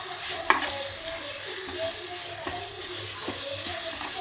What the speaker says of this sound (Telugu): ఇలా మిక్సీ పట్టుకున్న ఈ మసాలాను వెల్లికారాన్ని ఈ వేగుతున్న దొండకాయలో వేయాలి.